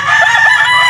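A Sweater Kelso bloodline gamecock rooster picked for a three-cock derby crows once, loud and close, a single sustained call filling the whole moment.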